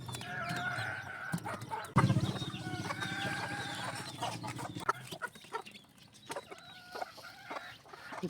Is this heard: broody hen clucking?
yes